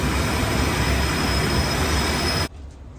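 Train pulling into the underground platform at Zurich Airport station, a loud rolling rumble with wheel squeal that cuts off abruptly near the end, leaving a quieter station hum; no voices.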